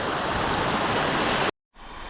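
Water pours over a small stream dam, a steady broadband rush heard close, then an abrupt cut to silence before the flow resumes at a lower level.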